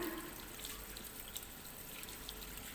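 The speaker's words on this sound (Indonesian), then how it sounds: "Pertama-tama kita nyalakan dulu keran." A tap runs steadily for hand washing in a microbiology lab practical, a soft continuous hiss and trickle of water, fairly faint and unbroken.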